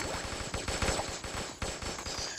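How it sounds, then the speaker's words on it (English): Shotgun blasts in a video game, heard as a rapid, loud, continuous run of gunfire reports with no talk over it. "I ended up shooting her with a shotgun,"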